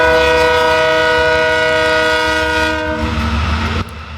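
GE Evolution freight train passing close by, its multi-tone horn blaring loud and sustained for about three seconds before cutting off, leaving heavy rolling rumble of the cars.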